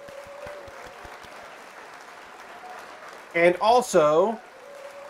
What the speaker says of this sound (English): I'm going to hit the applause